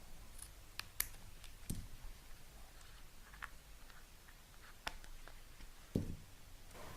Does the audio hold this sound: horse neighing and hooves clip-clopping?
no